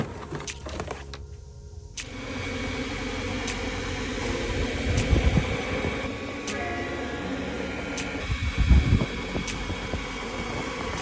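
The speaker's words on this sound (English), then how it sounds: "I have tested this dryer and it is definitely worthwhile." A high-powered stand dog grooming dryer with three fan speeds and three heat settings runs steadily, a loud continuous blowing whir that swells slightly in the middle, alone without voices.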